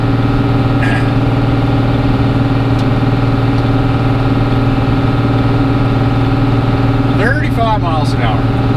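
Cummins 12 valve diesel in a dually truck pulling a 32-foot fifth wheel trailer up a steep climb in second gear, a steady loud low droning engine throughout, heard from inside the cab, with a brief voice near the end.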